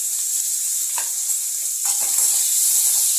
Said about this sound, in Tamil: கொஞ்சம் கருவேப்பிலை, வெங்காயம், ஒரு வெங்காயம் பொடி பொடியாக கட் பண்ணி வச்சுருக்கேன், அதை போட்டுக்கலாம்.